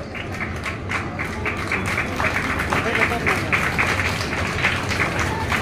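Steady applause from an event audience honouring successful fish farmers of a Jharkhand district, continuous dense clapping at moderate loudness throughout.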